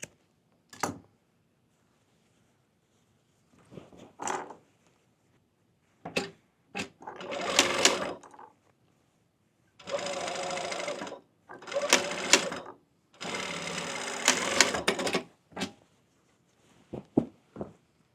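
A tailor's sewing machine stitches fabric in several short bursts, then longer whirring runs, separated by quiet pauses and small handling clicks, close and clear.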